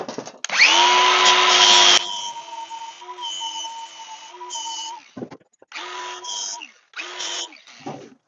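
Angle grinder whining against welds on Mustang headers being fitted to a 1994 Ford F150, loud and close, running steadily then cutting out and restarting in short bursts.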